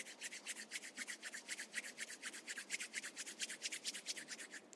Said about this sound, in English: Rub your palms together.